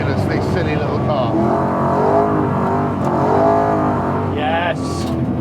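A small Mini fitted with a BMW V8 engine runs and revs, the engine note swelling and dipping steadily throughout while someone talks over it from inside the cabin.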